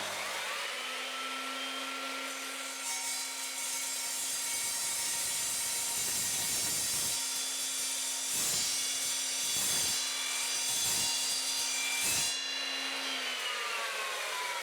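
An Evolution Rage 3 sliding mitre saw cuts through galvanised steel unistrut. A loud, continuous high motor whine and grinding metal cut runs for about fourteen seconds, with several brief dips in pitch as the blade bites, close up and with no talking.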